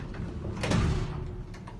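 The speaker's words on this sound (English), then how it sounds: "Door closes." An old hydraulic elevator door in a church slides shut with a single muffled rumbling push and soft thud, close by and alone, in a quiet interior.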